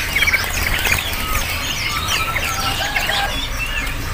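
Caged birds at a bird market kiosk chirp and tweet in dense overlapping calls, with several small birds singing at once over a steady market background hum.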